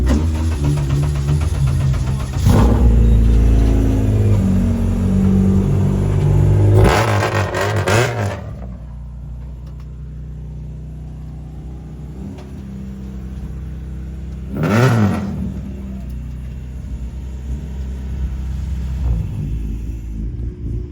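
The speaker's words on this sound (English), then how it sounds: "Not me having the loudest car here." K-swapped Honda Civic race car engine, loud and close, with a deep rumbling idle and several sharp revs that rise and fall back, no talk.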